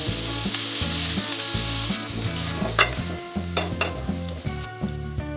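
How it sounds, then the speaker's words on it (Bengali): Chanda fish sizzles and crackles steadily as it fries in oil for a fish bharta, with repeated scraping and stirring strokes and occasional spatters, loud and close with no talking. "মাছটা হালকা ভেজে নিব।"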